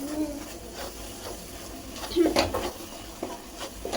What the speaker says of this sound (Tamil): இப்போ நம்ம அந்த பொடியை மிக்ஸ் பண்ணுறோம்